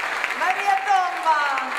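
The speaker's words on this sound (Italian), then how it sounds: "Prenditi questo applauso." Audience applause follows a performance on stage, a brief wash of clapping heard under a voice speaking over it.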